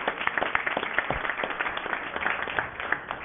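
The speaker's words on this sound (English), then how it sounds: "Let's give Mr. Cantu a round of applause there." Audience applause at a school board of trustees meeting in a hall, a steady patter of many hands clapping at moderate distance, sustained without any voices over it.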